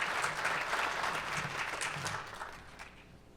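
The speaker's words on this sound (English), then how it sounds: "Round of applause." Applause from a conference audience at the ODA Summit 2025 as a speaker from Indivior walks up to present. Moderate clapping from the room holds steady and then slowly fades.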